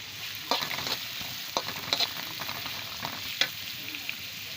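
Sacrificial (Qurbani) meat frying in a pan with spices and raw onion, a steady sizzle broken by several sharp scrapes and clatters of stirring, close and fairly loud, with no talk.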